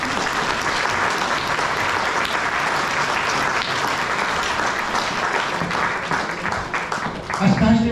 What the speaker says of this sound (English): Can I ask you all please to give them a big round of applause?